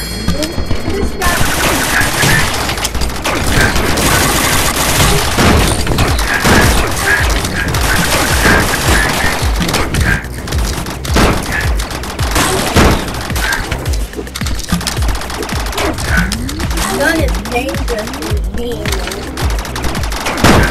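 Sustained automatic gunfire from the VR game Rec Room, loud and dense with rapid bursts and crashes running nearly the whole time, a voice briefly heard amid the shooting.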